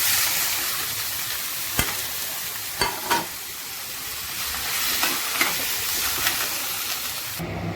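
Boiled potatoes fry in a pan with chili powder, turmeric, garam masala and salt, giving a constant loud sizzle with occasional sharp clinks and scrapes of stirring.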